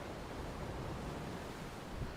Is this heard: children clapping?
no